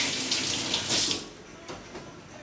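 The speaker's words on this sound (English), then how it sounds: "and rinse my hands." Water runs steadily from a kitchen tap as hands are rinsed during salad preparation, a close, continuous splashing hiss that thins out partway through.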